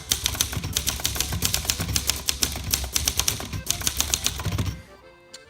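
Typing on a 1957 Royal Royalite portable typewriter, a fast, close run of crisp mechanical key strikes with a snappy rhythm, stopping near the end.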